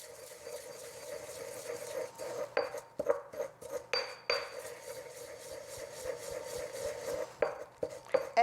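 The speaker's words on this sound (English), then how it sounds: "You can add in a little bit of those, and then you just grind that together." Lavender buds ground together with sugar, likely in a mortar: a quiet, continuous gritty scraping and rubbing with irregular strokes, close up and with no talking.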